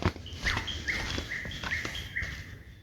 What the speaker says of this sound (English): Wonder what that bird is.